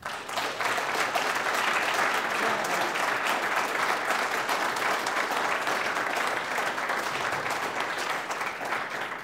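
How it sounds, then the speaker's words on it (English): Audience applauding at a free speech event, a dense, steady wash of many hands clapping that holds loud and unbroken throughout. "Round of applause for these people."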